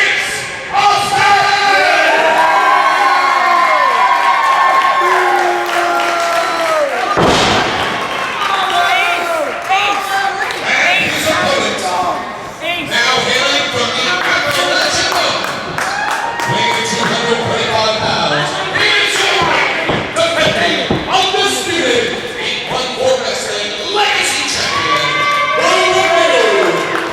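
A wrestling arena crowd at an 814 Wrestling Fallout event roars and cheers nonstop, split between rival fans, with shouts and whoops rising over a dense, loud wall of noise and voices calling through it.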